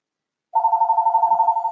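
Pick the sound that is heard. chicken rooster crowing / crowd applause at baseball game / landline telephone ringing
landline telephone ringing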